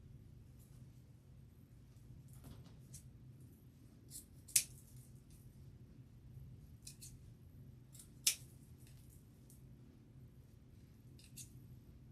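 Scissors trim thread tails in a quiet room, giving a few faint, sparse snips, two of them crisp and distinct, over a low steady hum.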